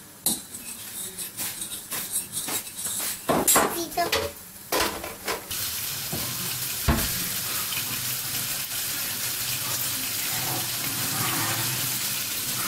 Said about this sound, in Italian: Papà ti ha chiesto di sbattere le uova.